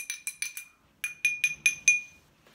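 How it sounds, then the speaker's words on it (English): A metal spoon stirring lignite extract into a 2-ounce glass of water rings against the glass in about nine bright, quick clinks, close and loud, with a brief pause between two bursts. "And I'm going to give it a little stir."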